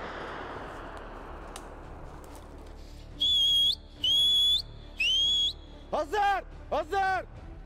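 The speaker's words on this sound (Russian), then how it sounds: "Выстрел в воздух и свист дают собакам понять, где хозяин" Three long, shrill whistle blasts calling hunting dogs ring out, followed by quicker warbling whistle bursts, loud and clear over a soft outdoor background during a bear hunt in Chechnya.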